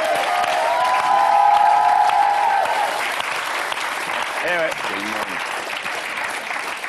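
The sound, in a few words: audience applause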